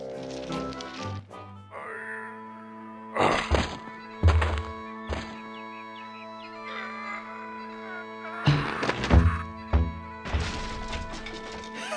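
Several heavy thunks of a caber toss land over a steady game music bed in The Curse of Monkey Island, two clustered early and more later, each a dull wooden whack.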